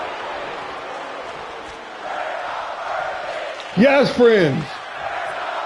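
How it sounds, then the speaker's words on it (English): A capacity crowd at a pro wrestling show keeps up a broad, steady roar that swells midway, with a voice shouting and talking loudly over it. "This capacity crowd on their feet"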